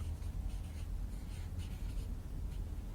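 A pen or marker scratches steadily across a board or paper while an English grammar lesson is written out, giving a continuous soft rasp over low background hum with no speech.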